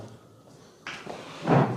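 A house door is shut at around one second, with a heavier thud or slam near the end, both fairly close and moderately loud against a quiet room.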